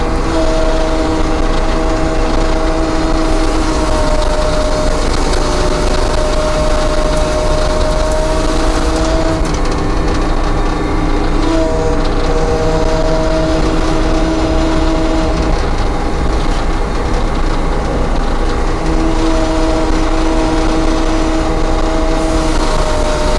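A sawmill blade cuts a 14-foot log into 1x8 boards, producing a continuous loud mechanical roar and steady whine throughout, with no talking.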